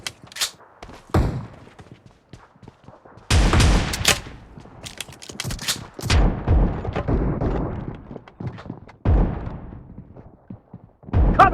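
Shotgun fire in a multiplayer shooter game, several loud booming blasts in bursts with rattling follow-up shots and brief quiet gaps between, close and punchy.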